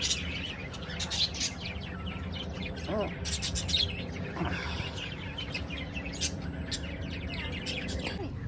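Birds chirp and tweet in short bursts scattered across the clip, with a voice speaking quietly beneath the calls.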